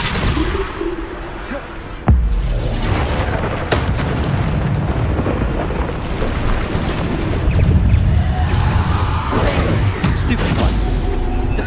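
Bombarda spell blasts in the game Hogwarts Legacy on PS5, a sharp boom followed by continuous rumbling combat noise and further bursts, with voices speaking throughout.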